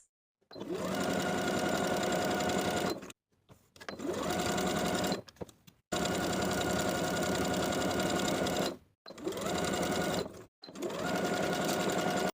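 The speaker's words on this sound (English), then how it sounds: "Top stitch all the way around the entire collar with a 1/4 inch seam allowance." A sewing machine top stitches around an entire collar at a 1/4 inch seam allowance, running in four loud, steady bursts of a few seconds each with short pauses between them.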